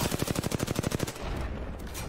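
Rapid automatic gunfire from an Apex Legends arena match, a fast burst of about a dozen evenly spaced loud shots lasting around a second, followed by a rumbling wash of game noise.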